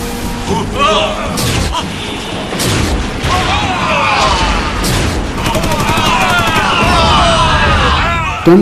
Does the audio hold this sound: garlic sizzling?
no